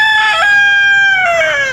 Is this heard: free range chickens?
yes